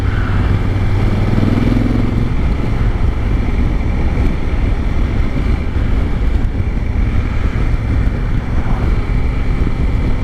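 A 2019 Honda Africa Twin DCT motorcycle accelerates in sport mode on an open road, its engine drone buried under loud, steady wind buffeting on the rider's microphone throughout.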